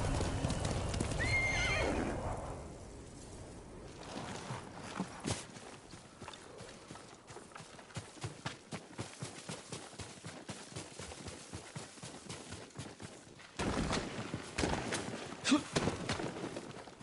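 Yuriko's horse in the Ghost of Tsushima video game, a loud whinny at first, then steady clip-clop of hooves walking close by, with a second snort and stir of movement near the end.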